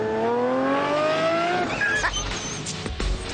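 A loud Lamborghini LP670-4 SV engine roars and revs with rising pitch, then shifts with sharp bursts and crackles, sustained and close.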